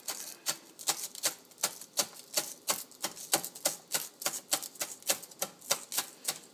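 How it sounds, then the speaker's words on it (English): Green onions being finely chopped with a knife on a cutting board, a steady rapid series of crisp close taps, about three per second, with no voices. "Just kind of chopping them finely."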